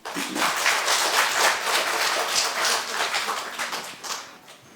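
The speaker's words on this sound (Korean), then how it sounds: "박수 한번." An audience at a Korean church testimony gathering claps for several seconds, a dense, fairly close burst of applause that fades out toward the end.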